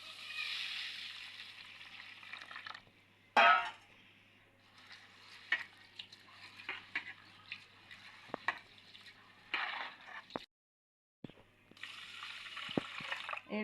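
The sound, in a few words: washing rice (atap rice) in water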